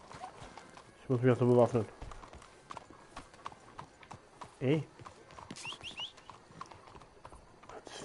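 Horse hooves clip-clop in Red Dead Redemption 2 alongside a loud whinny and a second short neigh, with someone talking over the game sounds.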